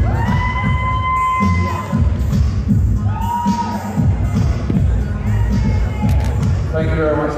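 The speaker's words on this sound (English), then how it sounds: "Let's give Daisy a round of applause." Crowd cheering, shouts and whoops from the audience at the Miss Ghana UK 2018 pageant as an award presenter comes up, loud and busy, with music tones and voices mixed in but clapping not distinct.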